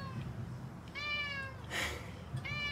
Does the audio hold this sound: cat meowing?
yes